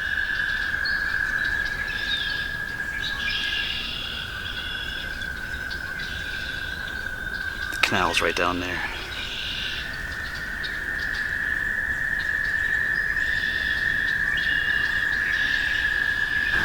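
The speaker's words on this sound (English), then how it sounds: "You should be able to hear the frogs." Spring chorus of frogs calling steadily by an overgrown, flooded canal, a dense high trilling drone carrying through the whole scene with a brief rustle midway and a voice speaking once.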